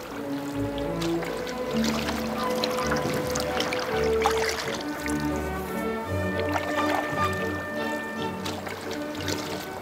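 A canoe is paddled along the Danube past Great War Island near Zemun quay in Belgrade: rhythmic paddle strokes, water dripping and trickling off the blade, and gentle sloshing against the hull, close and steady throughout.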